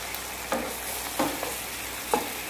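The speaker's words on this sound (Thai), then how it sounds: "ใส่พริกลงไปค่ะพริกหนุ่ม" Green chilies stir-frying in a pan for a vegetarian sweet-and-sour egg dish, with a soft steady sizzle and three brief scraping stirs of a utensil, close and fairly quiet, no talking.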